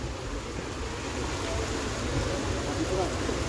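Heavy rain pours steadily at a camp during a storm strong enough to blow a tent over, a constant dense hiss close by with voices talking faintly underneath.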